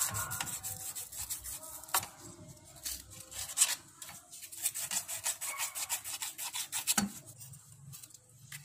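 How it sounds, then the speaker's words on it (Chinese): Sandpaper rubbed back and forth over a refrigerator's metal pipe during a repair for a cooling fault, a close, steady rasping in quick repeated strokes with one sharp knock partway through. "用砂纸给它打磨一下"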